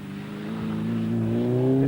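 A TVR sports car engine revs upward in a smooth, rising growl, close and loud, building steadily in pitch and volume over a couple of seconds.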